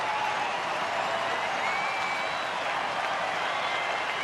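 A baseball crowd cheers and applauds steadily in the 9th inning as the Dodgers' Jansen pitches: a dense, even roar of many voices and clapping that fills the whole stretch without letting up.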